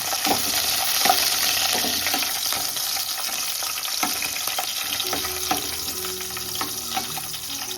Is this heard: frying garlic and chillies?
yes